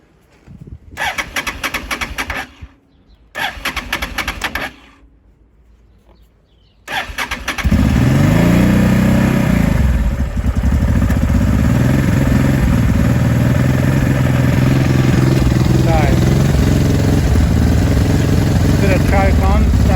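A 2005 Honda Deauville NT650V motorcycle cranks in short bursts, then fires and settles into a steady, loud, close idle on choke after its carburetor check.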